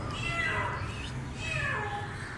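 A cat trapped in a well meows twice in drawn-out, rising-and-falling cries, close and clear over a low steady background rumble.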